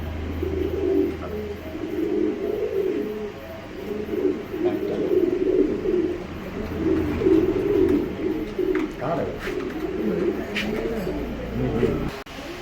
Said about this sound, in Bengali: শুরুতেই এক পেয়ার গিরিবাজ কবুতর আছে